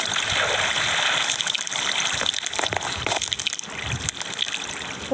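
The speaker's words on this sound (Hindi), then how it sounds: "वाटरफॉल है गाइस, स्विमिंग वाटरफॉल।" Rushing water from a waterfall in the video game Minecraft, a steady broadband gush that continues for the whole stretch, fairly loud and close, with no voices over it.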